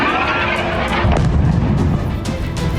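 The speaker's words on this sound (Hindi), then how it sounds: "चीख पुकार और धमाके की आवाज बेरूत में बर्बादी की कहानी बयां करने के लिए काफी है" Bombs strike Hezbollah sites in Beirut. Dense, continuous low rumbling blasts roll on loudly with distant thudding booms layered through the din.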